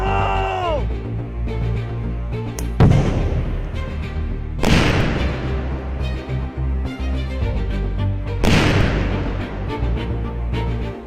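C4 detonations of consolidated military ordnance during an army demolition exercise in Postojna, Slovenia, with three heavy booms spaced several seconds apart, each followed by a long rolling rumble over a continuous low background.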